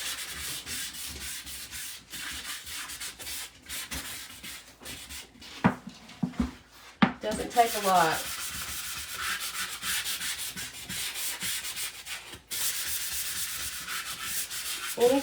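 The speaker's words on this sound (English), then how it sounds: "So I'm just giving it a good light sanding." Steady, continuous rasp of light sanding on a painted wooden step stool, with a few brief handling clatters midway and a short spoken remark.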